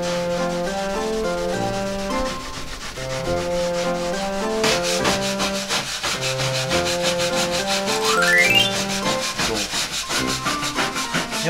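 Old Wood Wax being rubbed onto rough cedar storage boards makes a continuous scraping, rubbing sound, steady and close, alongside a loud tonal music track.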